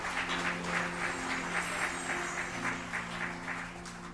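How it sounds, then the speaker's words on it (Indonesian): A church congregation at a Sunday service claps steadily and continuously, the applause sounding somewhat distant and filling the room at an even level, with a low hum running underneath. "Berikan tepuk tangan lebih keras lagi."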